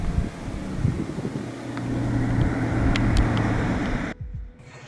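Air-cooled engine of a 1969 Volkswagen T2 van while driving, a steady low drone with wind and road rumble inside the cabin, cutting out near the end.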